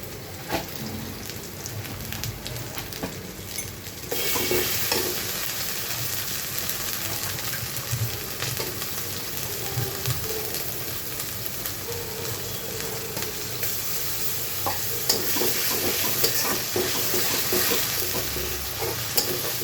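Garlic paste fries in a pan with a continuous crackling sizzle, broken by repeated scraping and clacking stirs of a spoon. The sound is close and grows louder partway through, with no talking.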